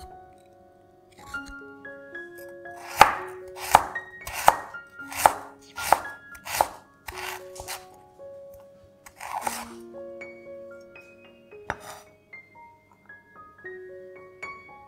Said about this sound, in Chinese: 南姜去皮切片，